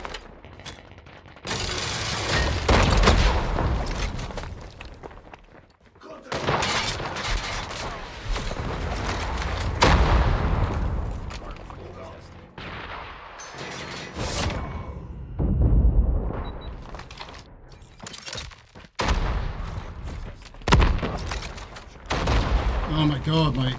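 Rapid bursts of gunfire from a weapon in the mobile shooter COD Mobile, with loud clustered shots and brief pauses between volleys, mixed with game effects and some talk.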